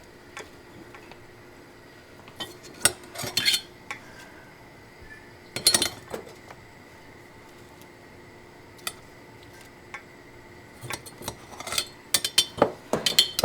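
Pickled chiles in vinegar being packed into glass jars, with scattered glassy clinks and taps at irregular intervals, close and fairly quiet, clustering in short bursts between quieter stretches.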